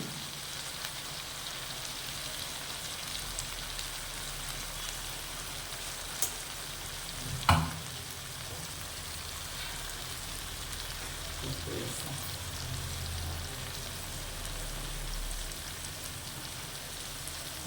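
Eggplant pieces fry in oil with turmeric, coriander powder, chili powder and salt, giving a steady soft sizzle like light rain, with a single brief clink partway through.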